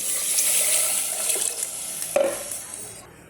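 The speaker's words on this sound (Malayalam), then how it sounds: "നമുക്കിതിലേക്ക് പുളിവെള്ളം ഒഴിച്ചു കൊടുക്കാം" Tamarind water pours into a pot of sambar with a soft, steady splashing and stirring wash that fades toward the end, close and moderately quiet, with no talking.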